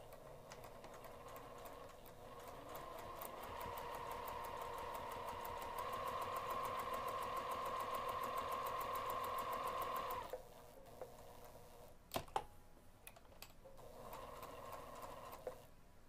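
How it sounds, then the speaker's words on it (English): A sewing machine stitching fabric at a 2 mm stitch length, a fast steady mechanical whir and needle patter running for about ten seconds, pausing, then a few clicks before stitching resumes, with no talk. "I'm going to take this over to the sewing machine and stitch directly on top of the lines that I drew to form a rectangular box"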